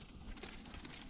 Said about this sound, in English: That's not a donkey, that's a horse.